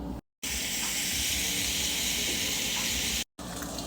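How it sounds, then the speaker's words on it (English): Bacon strips sizzle steadily in a hot pan at home, a dense bright crackling hiss that runs continuously, broken by two brief moments of silence. "Bacon is still cooking"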